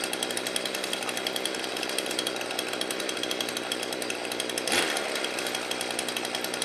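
A 2008 John Deere LT105C lawn tractor's small engine runs at a steady, loud drone with a rough, buzzing texture throughout. One brief louder burst comes near the end, and no one speaks.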